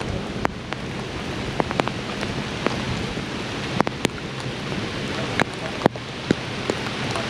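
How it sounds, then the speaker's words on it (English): Steady rain falls during a flood along the Georges River in Australia, a dense continuous wash with scattered sharper drops and light wind buffeting the microphone, with no talking. "Here comes the rain again."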